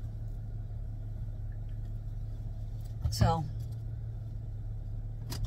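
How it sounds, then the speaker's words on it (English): Inside a parked car, the engine idles with a steady low hum, while a person speaks briefly over it near the middle. "I'm gonna turn my car off."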